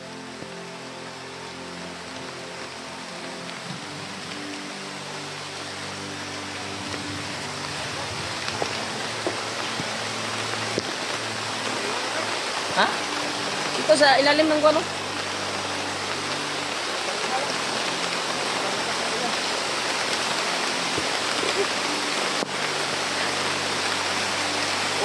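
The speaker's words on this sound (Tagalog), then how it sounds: "Lakas ng ulan talaga tong." Heavy rain pours down in a steady, dense roar that fills the whole scene, with brief voices talking over it midway.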